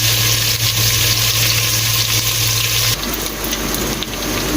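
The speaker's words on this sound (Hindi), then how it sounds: "इसमें अब हम इसे फ्राई करेंगे ताकि ये जल्दी फ्राई हो जाए।" Bitter gourd (karela) pieces fry in oil in a small pan, a loud, dense, steady sizzle that shifts briefly as they are stirred, with no talk.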